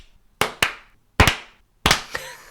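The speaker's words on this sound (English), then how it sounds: "I prefer a slow clap." Slow applause from one person: four or five sharp, spaced hand claps in an uneven, deliberate rhythm, close and distinct, with quiet gaps between them and no one talking.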